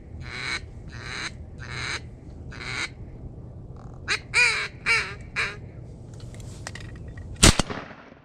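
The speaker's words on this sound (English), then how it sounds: "Nice shot, Aaron." A shotgun blast rings out while duck hunting on Thanksgiving, a single loud sharp crack near the end, after a run of rhythmic duck quacks and calls carrying over the outdoor background.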